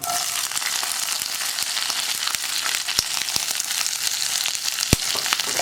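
Chopped beans for a Kerala beans thoran being stirred into a hot pan, a steady dense sizzle with scattered clicks of a spoon against the pan, fairly close and without any talking.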